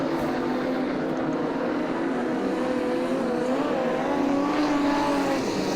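Modified sedan race cars, among them a black XF Falcon, roar around Lismore Speedway in a steady, loud engine drone that rises slightly as they accelerate.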